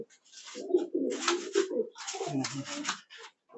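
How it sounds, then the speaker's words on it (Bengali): High-flying pigeons coo close by in a loft, soft, throaty bursts, several overlapping calls with brief pauses between them. "দেখুন পায়রাগুলো এগ্রেসিভ ভালো আছে"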